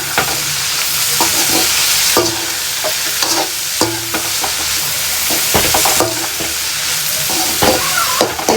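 Vegetables for homemade chicken fried rice sautéing in a pan, a loud steady sizzle broken by repeated scraping and clacking of a spatula stirring, with no voices.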